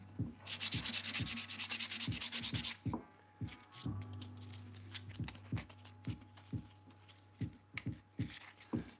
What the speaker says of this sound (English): I'm going to have to switch to a harder sandpaper, though, to get through that glue.